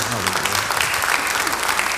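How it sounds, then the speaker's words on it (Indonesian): Audience applause during a church sermon, a steady dense clapping that fills the whole short stretch, fairly loud and close with some voices mixed in beneath it. "beri tepuk tangan yang baik bagi dia"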